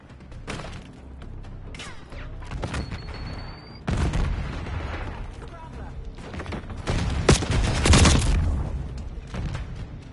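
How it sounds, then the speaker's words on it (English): Enemy marksman rifle fire in Call of Duty Black Ops 6 cracks out in loud, scattered booming shots amid ongoing battle noise, with voices talking over the action. "Enemy marksman shooting!"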